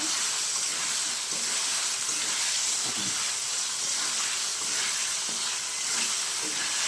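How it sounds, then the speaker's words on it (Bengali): Soaked potatoes frying in spice masala in a pan, a loud, steady sizzle and hiss close by, with faint stirring scrapes and no talk. "এবার তুমি ভিজে রাখা আলুগুলো দিয়ে আবার একটু কষিয়ে নেব"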